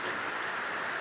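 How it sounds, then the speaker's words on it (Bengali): Rain falling outdoors during a downpour, heard as a steady, even hiss of drops with no breaks across the short moment. "এই দেখো কেমন বৃষ্টি পড়ছে, দেখছো?"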